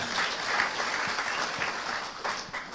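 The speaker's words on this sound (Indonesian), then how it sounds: "kasih tepuk tangan dulu yang meriah buat tuh" A church congregation applauds during a sermon, a brief, full burst of clapping from a large crowd that fills the space evenly before tapering slightly.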